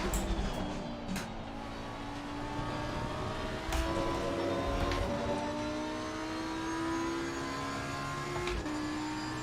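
Race car engine droning steadily in a racing game at Kyalami, a sustained mechanical tone with rising and falling pitch bands throughout, close and continuous with no talk over it.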